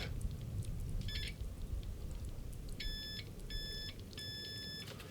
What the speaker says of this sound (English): if you hold one connection here and one here, you get a beep.